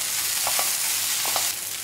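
Onions fry with coconut pieces in oil for a duck roast, giving a dense, even sizzle close up, with a couple of soft paired stirring scrapes cutting through the hiss.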